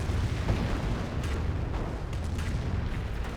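Artillery barrage in the World War II strategy game Company of Heroes: a dense, continuous rumble of overlapping explosions and booms, loud and sustained with no pauses and no voices.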